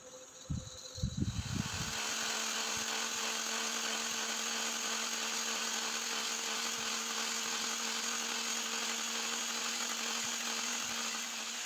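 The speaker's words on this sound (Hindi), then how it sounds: "अब क्रीम बीट करेंगे।" An electric beater whips cream chilled for two hours in the freezer, kicking on after a brief clatter and then holding a steady, continuous motor whine at moderate volume, with no talk.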